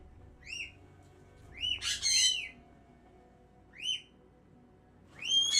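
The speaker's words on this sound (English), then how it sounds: "I'm gonna quickly go over to the bird so he stops screaming." A pet bird screeches loudly and close by: four bursts of shrill, squawking calls come at uneven intervals, the second one longer and harsher, with no voices around them.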